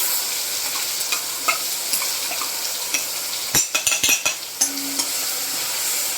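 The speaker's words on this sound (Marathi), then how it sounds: "जे आता वाटण आपण बारीक घेतलेलं ना वाटून ते आता आपण वाटून तेलामध्ये टाकून गॅस कमीच ठेवायचा" Ground masala paste frying in hot oil over a low flame, with a steady sizzle. A spoon stirs and scrapes the pan in a quick run of sharp clinks near the middle.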